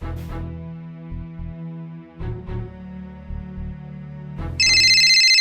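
A mobile phone ringtone plays a loud, melodic looping tune with no talk over it, and a brighter, sharper burst of ringing comes in near the end.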